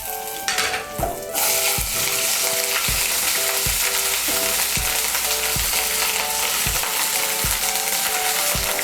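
Ginger paste frying in hot spiced oil for a Kashmiri-style potato curry: a dense, steady sizzle close by, with a spatula scraping the pan in regular strokes about every half second. No voices.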